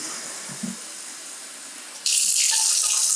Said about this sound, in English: So we're getting 2 cups of water and putting it into the